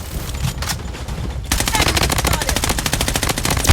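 Rapid automatic gunfire from the video game Blood Strike, M4A1 rifle, scattered shots at first, then a long sustained burst of fast firing.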